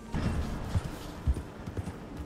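Horse hooves from Red Dead Redemption 2, a soft, uneven clip-clop of several low thuds at a walking pace, heard fairly faint at close-to-middle distance, with no clear whinny.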